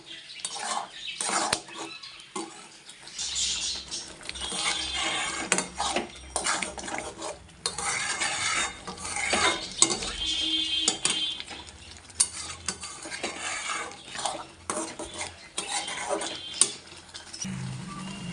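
Taro chili paste (kochu morich bata) being stirred in a pan until it dries, with continuous scraping and stirring strokes over a steady sizzle and occasional clinks of utensil on metal, fairly close and without talk.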